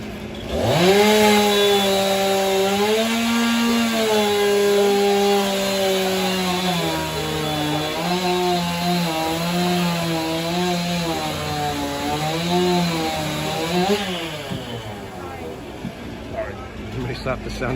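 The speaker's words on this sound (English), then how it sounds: "Oh, we got the chainsaw sculptor going." A chainsaw carving a wooden sculpture at Knott's Berry Farm theme park, a loud, continuous engine drone that rises and falls as the blade works, with voices over it.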